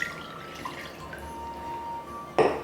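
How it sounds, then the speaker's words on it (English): Warm water tipped out of an Irish coffee glass into a sink, a quiet faint trickle with a few drips that ends in a short, louder splash. "the first thing we're gonna do is get rid of that water"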